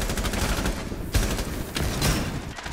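Gunfire in a Rainbow Six Siege match, with dense rapid automatic bursts close and loud, a couple of sharper shot peaks cutting through the continuous firing.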